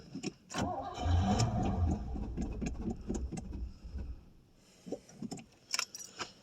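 A 1989 Pontiac Safari wagon engine, starved of fuel after sitting off the road for eighteen years, cranks and catches briefly, runs roughly and unevenly for a few seconds, then sputters out, followed by scattered clicks and clunks nearby.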